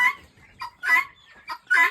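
A guinea fowl calls close by with four loud, harsh, rhythmic cries, evenly spaced, with short quiet gaps between them.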